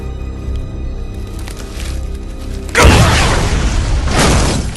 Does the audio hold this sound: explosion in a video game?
yes